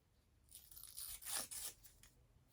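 Backing paper peeled away from fusible fabric for a family tree quilt, a short close tearing rip that builds over about a second and fades, quiet otherwise.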